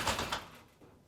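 A pocket door with soft-close hardware slides shut, with a few quick close knocks and thuds and a gentle settling at the end instead of a slam.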